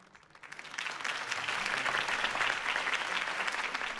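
A crowd at a campaign rally bursts into applause after a speech, rising quickly from quiet into a steady, full wash of clapping that holds to the end.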